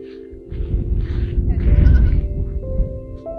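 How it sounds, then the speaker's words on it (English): A baby goat at a Sangesari nomad camp in Iran gives a couple of close, wavering bleats, one short and one longer and louder, against a quiet outdoor background. "playing with the baby goat"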